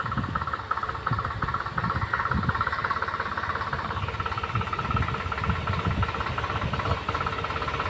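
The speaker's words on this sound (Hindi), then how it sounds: "अभी मैं इसमें रूटर निकाल कर ट्रैक्टर स्टार्ट कर स्टार्ट ही छोड़ रखा" A farm tractor left idling after its rotavator was unhitched, at a farmhouse, gives a steady, close, continuous engine rumble with a constant hiss throughout and no voices.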